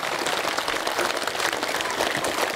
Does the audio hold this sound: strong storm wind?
no